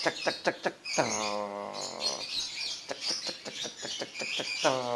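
A lovebird calls close up in rapid repeated chirps, then a sustained harmonic squawk, followed by more quick chip notes and another drawn-out call at the end.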